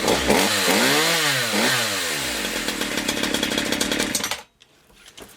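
A new Black and Decker 42cc gas chainsaw with a spring-assisted starter pulls over with rising and falling cranks, catches, and revs into a loud buzzing run before suddenly cutting to near quiet.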